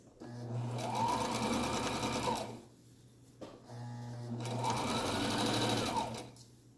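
Two runs of a sewing machine stitching fabric, each a loud, rapid whirring burst lasting about two to three seconds, separated by a short pause.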